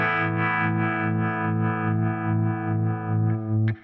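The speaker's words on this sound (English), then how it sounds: "The speed control on the harmonic setting at its lowest point sounds like this." A guitar played through a Surfy Industries Surfytrem stereo tremolo/vibrato pedal in harmonic mode at its lowest speed, a sustained loud chord pulsing slowly and steadily about twice a second, ending with a short pick scrape.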